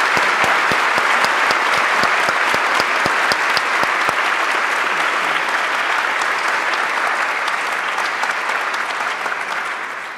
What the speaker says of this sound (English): I just think we should give Clare a round of applause for putting you.